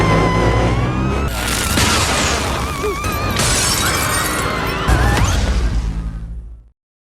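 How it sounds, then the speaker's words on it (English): Glasses shatter across a table in a film scene as a man takes a violent electric shock, a loud sustained crash of breaking glass with booming impacts that runs for several seconds before abruptly cutting off. "he gets shocked badly enough to send glasses shattering across the table"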